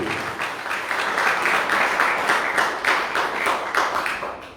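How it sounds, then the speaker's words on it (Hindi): Audience applause at a temple music competition in Savusavu, steady and sustained throughout with no voices on top, thanking a judge. "तो चले हम जोरदार ताली से धन्यवाद करते हैं"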